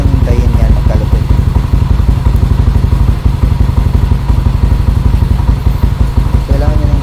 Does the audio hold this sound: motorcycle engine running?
yes